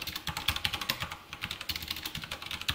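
Java code is typed on a computer keyboard as a quick, uneven patter of soft key clicks, close and fairly quiet, with no voices.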